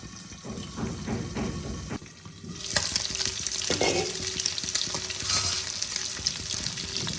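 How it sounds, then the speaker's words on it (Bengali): Pieces of shol fish fry in hot oil in a pan, giving a continuous close sizzle that grows louder and denser partway through, with light clatter of the pan and utensils. "মাছগুলো আমার ভাজা হয়ে গেছে, আমি এবার এগুলোকে তুলে নেব।"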